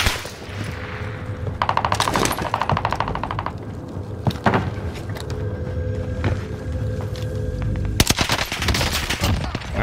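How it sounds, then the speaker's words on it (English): Gunfire in Call of Duty Warzone on Fortune's Keep, with a MARCO 5 weapon in use: loud rapid automatic bursts, several sustained volleys with brief gaps, and mechanical clicks, up close. "Oh, shot this guy dead right."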